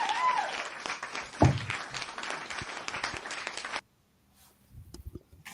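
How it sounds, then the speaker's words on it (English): An audience gives a round of applause for a guest at an evening talk, with steady, moderately loud clapping for about four seconds that then cuts off abruptly into near silence. "So let's give him a round of applause."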